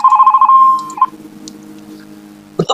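Telephone ringing in a house, a loud repeated electronic ring for about the first second, then fading into quiet room noise before a brief clatter at the end.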